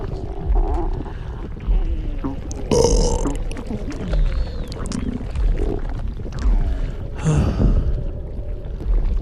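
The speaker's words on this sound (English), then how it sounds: "And now I'm so gassy, I can't stop burping." Several loud, drawn-out burps from close by, spaced irregularly between breathy gasps and murmured speech.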